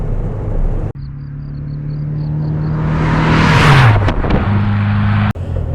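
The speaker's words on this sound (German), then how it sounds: "Das Auto läuft wirklich toll. Der rauscht gut los, hat einen tollen Sound." A 1962 Porsche 356 B 2000 GS Carrera 2 drives close by, its engine note rising steadily as it accelerates, peaking loudly with a rushing sweep, then dropping back to a steady drone, with no talk.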